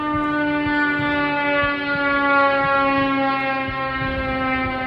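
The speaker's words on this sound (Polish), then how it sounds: "Póki co słychać tylko i wyłącznie syreny." Air raid siren wailing during the war in Ukraine, a loud sustained tone rich in overtones that holds steady for several seconds, with faint low rumbling underneath and no talking.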